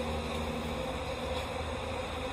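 Honey bees in a hive during requeening with a supersedure cell give a dense, continuous buzzing hum, close and steady throughout.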